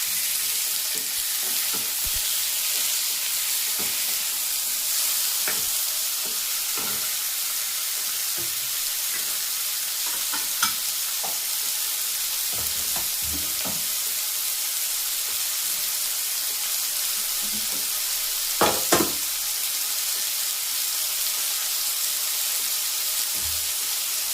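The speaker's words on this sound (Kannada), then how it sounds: "ಟೊಮೊಟೊ, ಕೊಬ್ಬರಿ ಎಲ್ಲ ಫ್ರೈ ಮಾಡ್ಕೊಳ್ಳಿ." Tomatoes and grated coconut frying in a pan for Udupi-style sambar, a continuous bright sizzle close up with scattered scrapes and taps of a ladle stirring, no one speaking.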